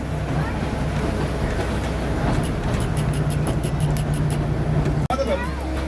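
Loud, continuous rumble and clatter of a train on a plantation excursion railway on Kauai, heard as steady rolling noise close by. A faint rhythmic ticking runs in the middle, and the sound cuts off abruptly near the end.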